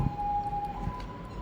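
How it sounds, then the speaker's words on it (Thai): A siren sounds alone, heard as a steady sustained wail at moderate level over faint background noise, with no voices. "เสียงไซเรนมาเลยครับผม"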